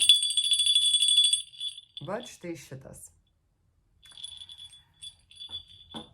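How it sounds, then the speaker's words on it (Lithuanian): Two small bells ring in turn: a clear, high, sustained chime first, then a person speaks briefly, then a second small bell tinkles more softly. "Pirmas varpelis yra štai šitas, bet toksai, ir skamba, bet štai taip."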